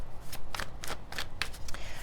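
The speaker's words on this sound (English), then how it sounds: "This deck isn't always the easiest to shuffle" A deck of tarot cards being shuffled up close, a rapid series of crisp riffling flicks and snaps in quick succession.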